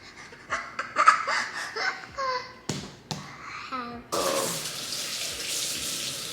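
Tap water runs in a steady, close stream while something is washed at home, preceded by a young child's vocal sounds, laughter and breathy panting.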